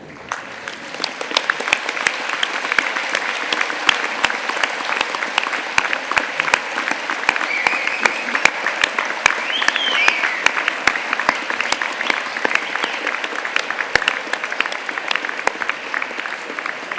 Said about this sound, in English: show your appreciation and for your family and friends for all their support with rapturous applause